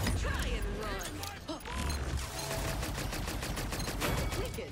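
Sniper rifle shots in the video game Paladins ring out as sharp cracks amid game effects and a continuous mechanical hum, with a person talking over the action.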